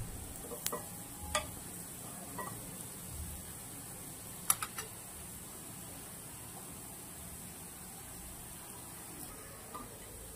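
Eggplant slices frying in a pan for a Konkani breakfast give off a soft, low sizzle, with a few light clicks and taps from utensils scattered through it and no one speaking.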